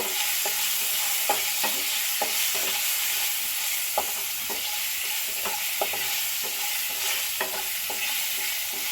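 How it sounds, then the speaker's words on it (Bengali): Turmeric powder stirred in a frying pan while cooking tangy mango dal: constant sizzle with a regular series of sharp spatula taps and scrapes against the pan, close and steady, no voices. "এবারে দিয়ে দেবো হলুদের গুঁড়ো, 5 থেকে 7 মিনিট নাড়িয়ে নেব।"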